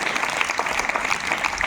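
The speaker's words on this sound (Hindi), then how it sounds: "तालियां।" A crowd applauds with dense, continuous clapping, steady and moderately loud throughout.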